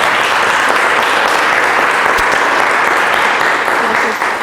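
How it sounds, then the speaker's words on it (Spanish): An audience at a talk on the indigenous and scientific naming of mushrooms from Zongozotla, Puebla claps in sustained, loud, dense applause that continues evenly throughout with no pauses. "le pido un fuerte aplauso para la gran ponente"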